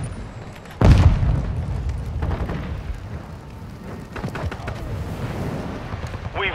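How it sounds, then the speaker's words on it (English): A flash grenade goes off with a sudden loud, close blast in an online team match of Call of Duty: Modern Warfare 2 (2022) on the Alboran Hatchery map, over a steady bed of gameplay noise. "Throwing flash grenade."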